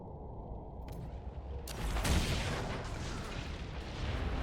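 A deep rumbling blast in the Dragon Age Inquisition video game as a mined lyrium site goes up, building from a low background roar into a loud swell that lingers to the end.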